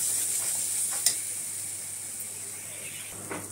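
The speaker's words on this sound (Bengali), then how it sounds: "এবার মশলাটাকে ভালো করে কষিয়ে নেবো" Spice paste with Kashmiri chili powder and a little ground cumin stir-fried in a pan, giving a steady soft sizzle and hiss with occasional faint stirring scrapes, fairly quiet and alone throughout.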